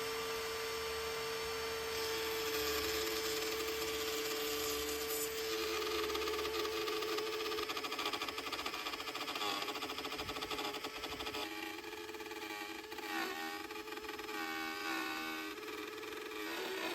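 Wood router cutting a quarter-inch-deep channel along the bottom edge of a wooden door for a floor guide, a steady high whine with grinding and rasping as the bit moves through the wood, close and continuous with no talk.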